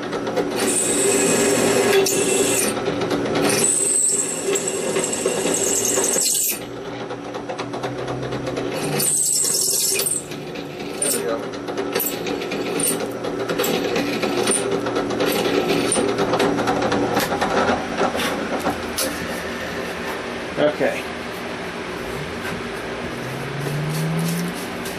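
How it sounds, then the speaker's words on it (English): Cobalt drill bit boring pin holes through knife steel, a loud steady mechanical whine and grinding drone from the drill running nearly the whole time, broken by a few short pauses and sharp changes in load as the bit cuts. "I'm using a cobalt drill bit, which tend to last a little bit longer when drilling through steel"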